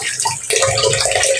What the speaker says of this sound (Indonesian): Kita cuci sampai benar-benar bersih.